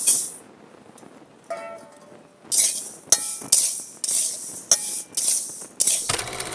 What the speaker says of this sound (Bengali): প্রথমে আমি ডাল ভেজে নেব